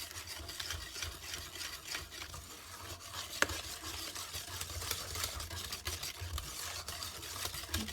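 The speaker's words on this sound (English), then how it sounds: "Mix this up." A spoon stirs buttermilk into a coconut pecan chess pie filling, giving a steady scraping, sloshing swirl close by. It keeps a continuous rhythm with one sharp knock midway and no talking.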